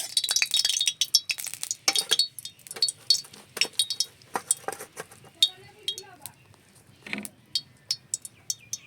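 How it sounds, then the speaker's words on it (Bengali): Oil being stirred in a cooking pan before frying lentil dumplings: quick, close clinks and taps come in an irregular rhythm, with a voice speaking briefly between them. "তেলটাকে একটু নেড়ে চেড়ে নিচ্ছি।"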